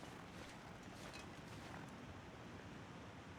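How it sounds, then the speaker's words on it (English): A continuous, even rush of water from a waterfall in the video game The Long Dark, heard faintly as a broad steady roar with no talking. "That sounds like water. Maybe a waterfall."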